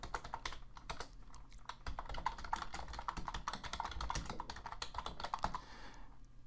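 Quick, continuous typing on a computer keyboard: a close, crisp patter of key clicks that runs for several seconds before stopping, quiet and without speech.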